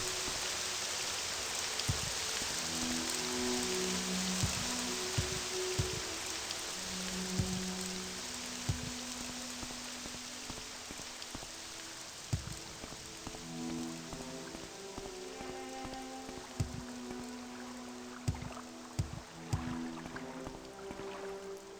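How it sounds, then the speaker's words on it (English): Rain falls steadily in The Elder Scrolls III: Morrowind, a constant hiss with scattered droplet taps and pattering, while soft ambient tones play beneath it throughout. "Get me out of the rain."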